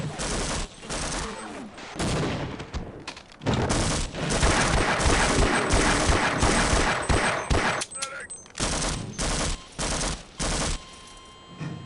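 Sustained gunfire in the classic shooter Half-Life, with rapid automatic bursts and dense overlapping shots, broken by brief pauses and a few isolated cracks toward the end.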